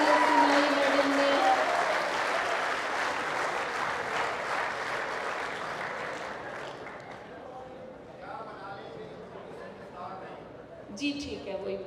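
Applause from the audience at a poetry mushaira at a Lahore university, a warm burst of clapping that gradually fades and thins as voices begin talking.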